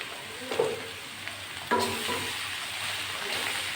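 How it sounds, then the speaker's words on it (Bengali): Bottle gourd and garlic frying in a pan with salt and turmeric, giving a steady soft sizzle with a few clinks of a spatula as it is stirred, close and moderately quiet, no talking. "লাউ থেকে যে জলটা বেরোবে সেটা থেকে সিদ্ধ হয়ে ভাজা ভাজা হয়ে যাবে"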